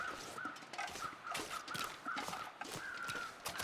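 Crows cawing in a snowy wilderness video game during a blizzard, repeated harsh caws at low volume over soft wind and footstep-like crunches, with no talk.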